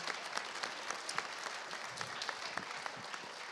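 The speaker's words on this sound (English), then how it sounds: "can you guys give them a round of applause?" Church congregation applauding during a Missions Sunday service, a steady wash of many hands clapping at moderate volume with scattered sharper claps, continuing without a break and with no voices on top.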